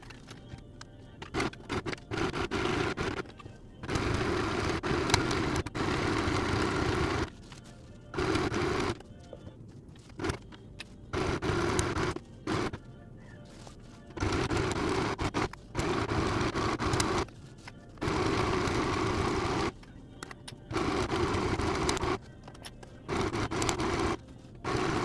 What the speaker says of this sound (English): we're going to place the front and back pieces together, right sides facing each other, and then we're going to sew on the sides over here